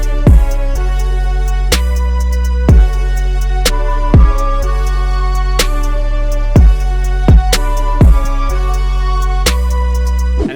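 A wobbly, delay-soaked piano loop carries a simple drum pattern, with punchy low kicks recurring roughly every second and sharp hits spread across the full range, playing loud and steady without any voices.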